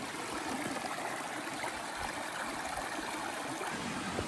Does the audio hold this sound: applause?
no